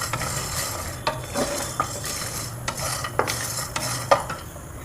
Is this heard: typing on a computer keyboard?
no